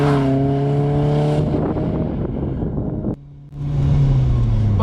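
BMW E30 M3 circuit car with strong steady engine harmonics that dip and rise as it works through a corner on track, loud and close from inside the cabin, cutting out briefly before returning.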